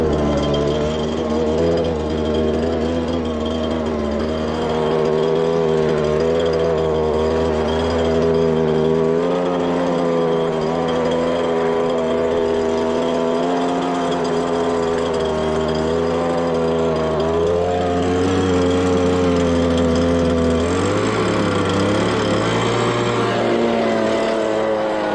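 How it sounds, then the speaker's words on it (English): Petrol leaf blower engine running steadily and loud for the whole stretch, a close, continuous droning hum with slight shifts in pitch, no voices over it. "go and get the blower going"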